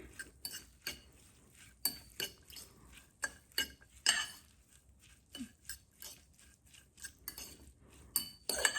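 Utensil mixing saltfish fishcake batter in a bowl, producing irregular clinks and scraping taps against the bowl between soft wet squelches, close up and quiet, with no speech.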